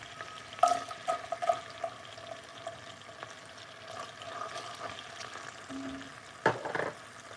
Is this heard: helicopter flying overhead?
no